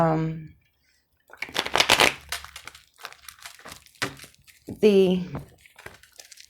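Tarot cards are shuffled by hand, a crisp riffling flutter in several bursts, while a voice speaks briefly at the start and again near the end.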